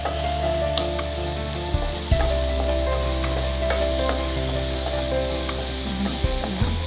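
Chana dal and urad dal fry in oil in a pan for spicy mango chutney, a continuous close sizzle with occasional sharp pops and light stirring scrapes.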